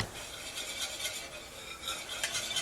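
Oats are stirred in a pot on a stove over low heat, giving a soft, busy scraping and swishing with faint clinks from the spoon, quiet and close, with nobody speaking.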